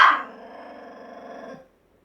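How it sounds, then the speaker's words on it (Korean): A pet dog indoors gives a single loud, close bark that trails into a sustained growling tone lasting over a second before cutting off into silence. "저희 강아지입니다."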